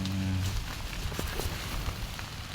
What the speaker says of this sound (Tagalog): Sa panahon po namin dito ay maulan. Sa kagabi pa maulan.